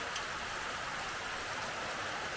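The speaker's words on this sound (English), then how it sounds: "Bucketing down, raining" Heavy morning rain bucketing down, a steady, even hiss of pouring water that stays constant and fairly faint throughout, with no one speaking.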